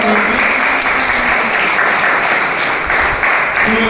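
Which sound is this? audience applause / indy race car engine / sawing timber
audience applause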